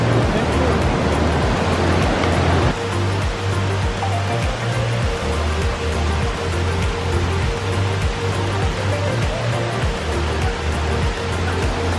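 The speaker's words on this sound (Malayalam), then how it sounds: "ഇതാണ് ഏറ്റവും വലിയ വെള്ളച്ചാട്ടം അവിടെ ഇങ്ങനെ താഴേക്ക് ചാടി ഈ പാറക്കെട്ടുകളുടെ ഇടയിൽ കൂടെ ഇങ്ങനെ ചാടി തുള്ളി" Water of Mallalli Falls cascades over rocks in a steady, loud, broadband rush that continues unbroken throughout, with a low rumbling undertone.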